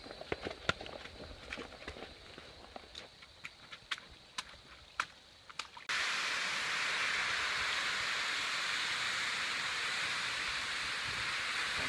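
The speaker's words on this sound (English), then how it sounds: "This is the tallest waterfall from Georgia to the Appalachians." Hemmed In Hollow waterfall in Arkansas, a tall cascade, roars as a steady broadband rush for the second half, preceded by crunching footsteps on a trail.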